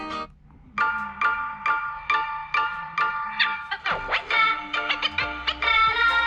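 An Umidigi S5 Pro phone plays its ringtone at maximum volume through the speaker. A bright, repeating melodic tone comes in short, rhythmic bursts, close and loud, with no talking.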